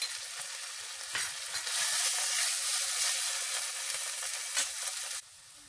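Onions sizzle and fry in a pan with ginger-garlic paste, a steady bright crackling hiss that swells as they are stirred, then cuts off abruptly near the end.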